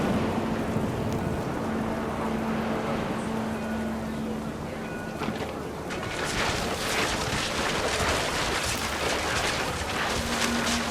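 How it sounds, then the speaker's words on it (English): Heavy rain pours steadily in the game What Remains of Edith Finch, a dense continuous hiss that swells louder partway through, with a low rumble of thunder underneath; no one speaks. "Rain came down in buckets then"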